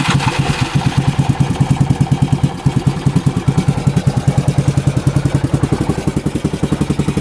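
4x4 UTV engine running just after starting, a loud, close, rhythmic chugging idle with steady pulsing beats and a slight stumble partway through, with no talk.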